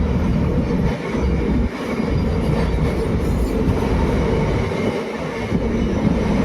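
The 14087 Runicha Express passes on an elevated track with a loud, close, continuous rumble and rattle of wheels and cars.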